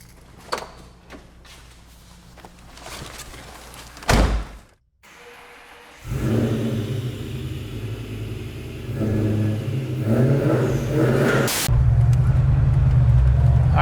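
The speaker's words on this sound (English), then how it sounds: "We're going to test out this 2004 Torch Red Cobra." A 2004 Torch Red Cobra with solid rear mounts rumbles, then after a door slam and brief quiet its engine starts pulling, the low drone building steadily louder as the car accelerates.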